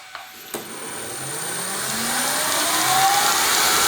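Nissan GTR R32 power steering pump on a test bench spinning up toward idle speed, with a couple of sharp clicks at the start and then a rising whine that builds steadily louder.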